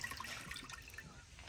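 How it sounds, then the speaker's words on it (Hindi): Cold water pours into a pot, a faint, brief close splash and trickle that lasts about a second and a half. "यहाँ पे एक बर्तन में थोड़ा ठंडा पानी ले लेंगे।"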